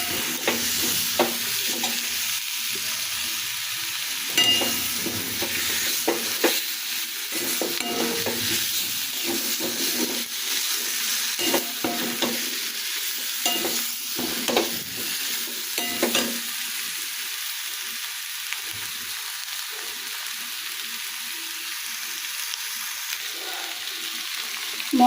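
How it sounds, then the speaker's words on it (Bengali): Spices sautéing for a vegetarian chickpea (kabuli chana) dish with no onion or garlic, a steady close sizzle broken by repeated scraping stirs over about twenty-five seconds, with no talking. "মশলাগুলো কষানো হয়ে গেছে"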